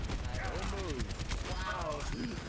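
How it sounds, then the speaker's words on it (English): Rapid bursts of gunfire in the Overwatch video game crackle as a dense, busy background, with a person talking over the shooting throughout. "There are a lot of shooting."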